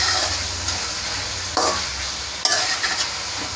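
Garam masala, three large tomatoes and green chillies frying in a pot for mutton keema biryani, a loud steady sizzle with a few sharp stirring scrapes close by.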